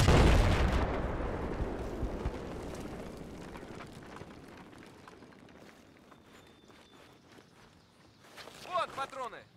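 C4 detonates in a video game to bring down a hotel. One huge close blast opens, then a long rumbling decay fades out, and sharper game sounds and a voice come in near the end.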